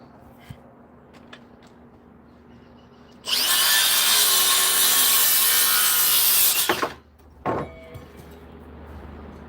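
Wood being sawn by hand for a larger scaffolding saw horse, a steady loud burst of rasping strokes lasting about three seconds, then a short follow-up scrape, over quiet room tone.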